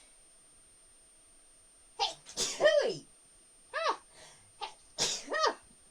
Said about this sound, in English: they always come in twos, don't they? Sneezes.